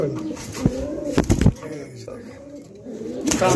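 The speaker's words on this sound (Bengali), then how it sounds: "আস্তে করে ধইরা এই যে দেখেন, দুইটা ডিম কবুতর দেখেন" Pigeons coo and stir in a pigeon farm, with several louder bursts of calls and fluttering close by. Voices talk throughout.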